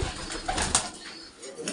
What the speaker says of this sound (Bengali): এগুলো হচ্ছে আমার কবুতর।